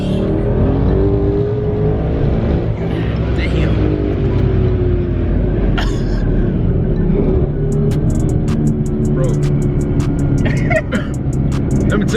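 Dense, continuous engine roar from a 1000+ hp twin-turbo Mustang GT accelerating, heard from inside the car, loud and sustained with rising tones throughout and no talk over it.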